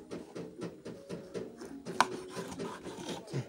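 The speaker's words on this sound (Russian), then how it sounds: "Так, разрезаем на кусочки, еще кусочки." A knife slices Yakut blood sausage into pieces, giving a series of soft, close cutting thuds and scrapes in an uneven rhythm, with one sharper click midway.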